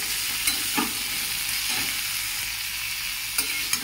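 Potatoes fry in a pan, a steady close sizzle running throughout with a few distinct scraping stirs of a utensil spaced through it.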